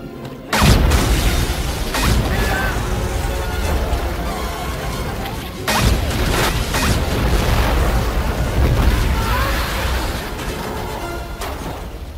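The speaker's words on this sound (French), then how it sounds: "Notre nouvelle arme anti-char. À l'uranium appauvri, bien entendu." A depleted uranium anti-tank weapon firing in a film scene, with loud booming blasts and crashing impacts near the start and midway, followed by sustained rumbling, debris and mechanical noise, with some speech mixed in.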